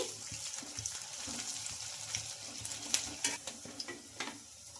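Bottle gourd punugulu fritters frying in hot oil as they are stirred and turned, a steady sizzle with small scraping clinks of a utensil against the pan, no voices.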